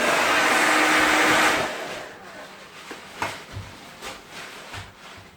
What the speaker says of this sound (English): When you're running a load that heavy, this is 1800 watts, the internal fan did come on our new power station